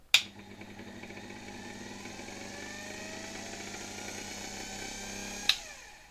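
A 1924 Electrolux V vacuum cleaner motor runs after repair, starting with a sharp click and then a steady whirring hum that builds slightly, ending with another click as it switches off.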